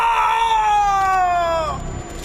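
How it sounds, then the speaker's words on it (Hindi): A man's scream of pain from an audio drama, a single loud, strained cry that slides downward and trails off over about two seconds. "वो दर्द के मारे चीख पड़ा।"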